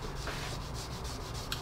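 Wet sanding a car's clear coat over a scratch during scratch repair: a soft, steady rubbing and scraping texture with faint rhythmic strokes, quiet and close, with no talking.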